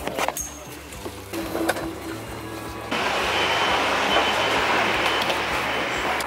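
A Copenhagen metro train passes at close range: quieter station clatter and squeaks give way to a loud, steady roaring rumble of the train moving through the tunnel.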